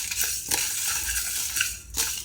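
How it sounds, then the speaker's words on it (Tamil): Whole spices (poppy seeds, cinnamon, cloves, cardamom and dried red chillies) dry roasted and stirred in a pan for Chettinad chicken curry, giving close, steady scraping and rattling with a few sharper clinks of the spoon against the pan. "எல்லாத்தையும் ஒட்டுக்க ஆட் பண்ணி நல்லா மணம் வர அளவுக்கு வறுத்துக்கோங்க."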